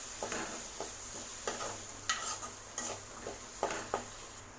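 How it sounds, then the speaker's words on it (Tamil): Boiled green peas stirred into fried masala in a pan for a peas curry, a spoon scraping and clinking against the pan in irregular strokes over a faint sizzle. "இப்போ இது கூட நம்ம வேக வச்ச பச்சை பட்டாணி இதில் ஆட் பண்ணிக்கலாம். பட்டாணி நல்லா மசாலாவோட நல்லா மிக்ஸ் பண்ணி விடுங்க"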